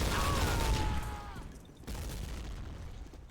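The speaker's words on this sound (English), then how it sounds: "Oh, that's a grenade." Grenade blast in a Source engine first-person shooter, a loud burst with rumbling low end that fades after about a second before a second rumble follows, with background game noise throughout.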